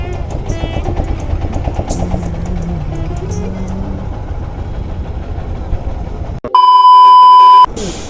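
Traffic jam on the road on a bike trip from Delhi to Rishikesh, with idling car and motorcycle engines rumbling nearby, scattered horn toots, and one long loud steady horn blast close by near the end.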